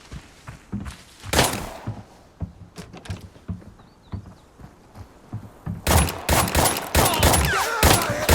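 Gunfire in the video game Arena Breakout: repeated bursts of close, loud automatic shots, growing into a dense sustained barrage near the end.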